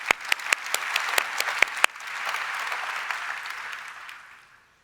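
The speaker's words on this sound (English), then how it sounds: "Big round of applause, by the way," An audience claps for volunteers at a talk, beginning with a few sharp, separate claps that swell into a brief burst of steady applause, then fade out.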